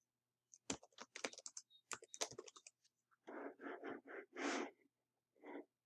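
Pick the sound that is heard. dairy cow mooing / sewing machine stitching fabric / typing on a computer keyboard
typing on a computer keyboard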